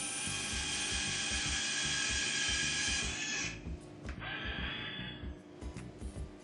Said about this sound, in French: Alignez la perceuse et percez simplement à travers.